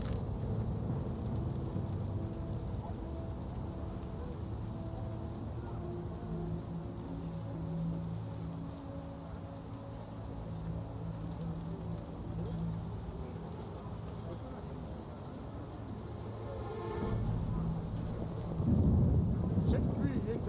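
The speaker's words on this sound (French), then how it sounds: "La pluie tombe drue." Rain and thunder in the video game The Witcher: a steady wash of rainfall with low, rolling thunder rumbles beneath it, swelling louder toward the end, and faint voices now and then.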